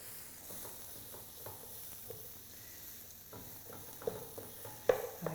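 Chopped onions hit chili in a hot pan and sizzle softly, a quiet steady hiss with occasional small pops and stirring scrapes toward the end.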